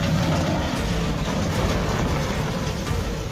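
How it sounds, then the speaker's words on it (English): The Russian cargo ship Seagrand strikes a bridge pier, heard as a dense, continuous low rumbling and grinding roar of steady loudness, with no clear separate impact and no talk. "Have you ever heard a cargo ship crash into a pier?"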